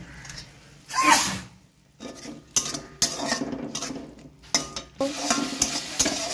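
Spice masala being sautéed in a pan for a snakehead fish curry, with irregular spoon scrapes and clinks against the metal over a soft sizzle, close by and uneven.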